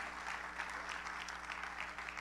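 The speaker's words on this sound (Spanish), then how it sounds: "Denle un aplauso al Padre, al Hijo, al Espíritu Santo" A church congregation claps together in a steady, fairly distant round of applause, with a low hum underneath throughout.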